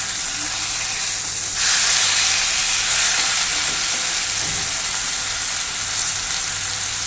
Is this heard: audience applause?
no